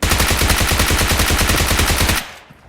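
A PP gun fires in PUBG Mobile, a rapid loud automatic burst of evenly spaced shots lasting about two seconds, then cutting off into quiet.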